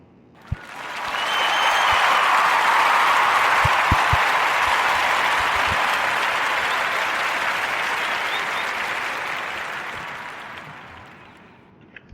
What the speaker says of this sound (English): I want to give a warm narrative podcast round of applause for